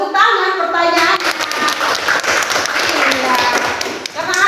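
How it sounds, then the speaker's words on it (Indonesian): Children in a classroom clapping together in a burst of fast, close applause, with children's voices talking over the hands and speech resuming as it tapers off. "tepuk tangan pertanyaannya"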